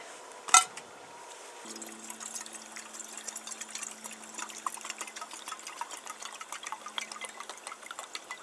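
Snow-melt water swirled around inside a pot over a winter campfire, a soft continuous sloshing and trickling after one sharp knock at the start, with a low steady hum beneath, no speech.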